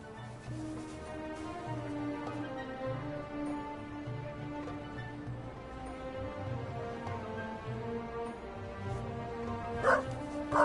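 A dog in The Raven Remastered video game whines and whimpers in repeated tonal cries, with soft yips and barks, moderately close over a quiet game background; a louder burst comes near the end.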